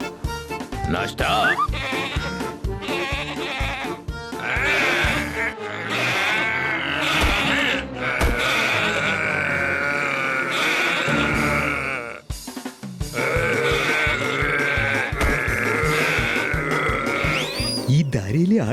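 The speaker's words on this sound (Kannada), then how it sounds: "ಈ ದಾರಿಯಲ್ಲಿ ಆಡುಗಳೆಲ್ಲಿಂದ ಬಂದವು?" Goats on a road in a cartoon bleat repeatedly over busy music and effects, their wavering cries loud and close, with voices talking now and then.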